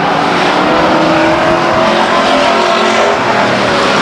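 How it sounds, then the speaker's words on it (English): Loud, steady roar of race cars lapping the Stockton 99 Speedway oval in a 1999 race, engines blending into a continuous dense drone with no pauses, heard close to the track. "Lovelace beginning to put some room between he and McCall in the 17 car"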